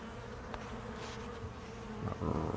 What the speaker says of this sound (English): Ton of bees coming, ton of bees going.